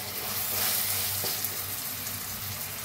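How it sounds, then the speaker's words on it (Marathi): Tomatoes and onions fry in a pan for a sprouts recipe, giving a loud, continuous close sizzle with light stirring and no talk. "ह्याला बी टमाटोला बी मिक्स करून कांद्यासंग भाजून घेऊया।"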